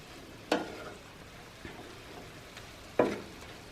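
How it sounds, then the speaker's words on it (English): Shrimp cook in a pan, with a quiet continuous sizzle under two sharp scraping bursts of stirring spaced a few seconds apart. "Back to the shrimp. We've definitely given it a couple of minutes to cook. We're almost cooked through. Just giving it a little stir."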